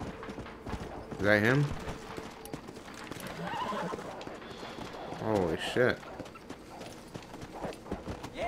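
A horse in the Red Dead Redemption video game clip-clops along with hoof beats and a couple of neighs, while someone talks excitedly over the sounds.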